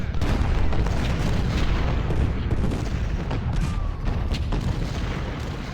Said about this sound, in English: Let's give some supporting artillery fire here